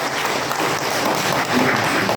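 Applause from an audience at a ceremony honouring medal winners, a steady dense wash of clapping held at an even level for about two seconds before cutting off abruptly.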